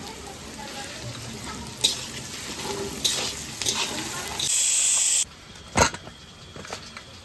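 A cooking pot bubbles and sizzles with onions and salt in mustard oil alongside goat meat, a steady low frying hiss broken by a few sharp clinks and a brief louder burst.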